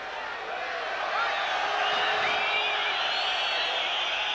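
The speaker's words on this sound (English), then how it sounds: "The crowd jeering Sibson's spoiling tactics" Crowd at a middleweight boxing bout between Tony Sibson and Louis Acaries, a broad sustained roar of jeering and whistling that swells and holds steady, with a commentator's voice faintly beneath.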